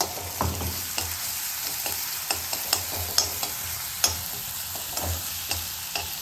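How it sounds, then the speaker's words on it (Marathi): Green chili, ginger and garlic paste fries with peanuts in a pan, a close steady sizzle punctuated by sharp spatula clicks and scrapes as the mixture is stirred. "जी चांगल्या प्रकारे तुम्हाला फ्राय करून घ्यायची आहे मिक्स करून घ्यायची आहे"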